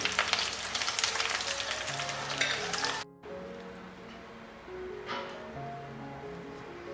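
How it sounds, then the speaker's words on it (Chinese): Stuffed tofu with a meat filling, placed meat side down into hot oil in a pan, gives a bright, loud sizzle that cuts off sharply, then settles into a quieter, softer frying hiss. "把酿豆腐呢肉馅的这一面放进来煎一下"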